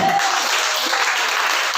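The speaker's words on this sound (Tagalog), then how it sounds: "Palakpak yung people!" A church congregation claps together in a dense, loud burst of applause, a continuous close patter with no voices over it.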